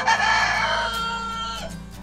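On a farm, a rooster crows loudly close up, one long drawn-out call that trails off, with hens clucking faintly beneath it and no talking.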